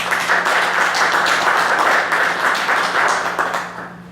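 An audience at a tribute event claps steadily and fairly close for a few seconds, a dense, even patter that thins slightly at the end.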